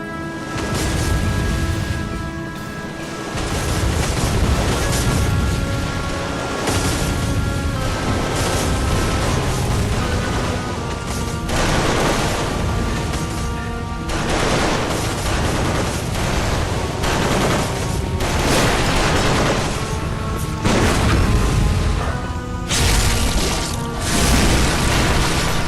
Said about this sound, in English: apparently some people have made turrets